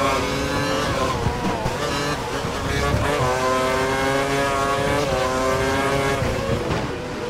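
A Formula 1 car engine in the racing game F1 2012 roars at high revs, with a continuous buzzing whine that rises and falls through gear changes and faint talk underneath.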